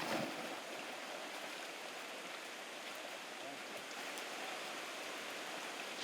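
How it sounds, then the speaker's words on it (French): Torrential rain pours down in the Guyana rainforest, a dense, steady hiss of water that fills the scene evenly from start to finish. "Une pluie torrentielle commence à tomber."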